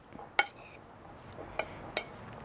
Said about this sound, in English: First I'm going to mix the sugar and everything together to coat